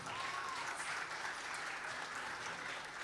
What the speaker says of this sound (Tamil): ரிஷிதாக்கு ஒரு பெரிய கைத்தட்டல்.